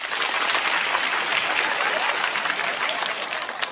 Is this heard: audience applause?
yes